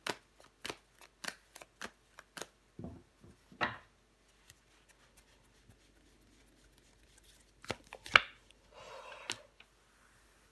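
Tarot cards being laid down and covered on a table: a series of light taps and soft slaps at a steady pace, then a couple of sharper card flicks and brief sliding rustles, all close and fairly quiet.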